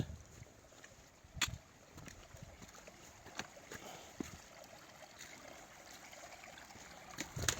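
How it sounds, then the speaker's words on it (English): A creek at an Appalachian Trail crossing gives off a faint, steady trickle and wash of water, broken by a few soft knocks and splashes close by. "Another beautiful creek crossing."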